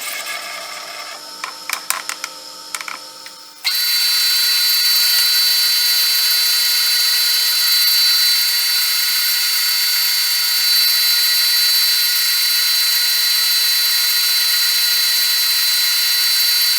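A lathe cuts a steel crank pin with coolant flowing. A few seconds of lighter mechanical tapping give way to a loud, continuous hissing whine that holds steady to the end.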